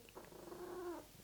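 A pet cat vocalizes softly in a quiet room, one faint, drawn-out murmuring tone lasting about a second, with no talking over it.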